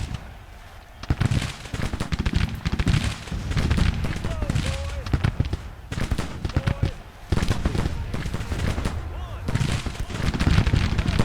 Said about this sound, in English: these artillery pieces still seem able to shoot at the enemy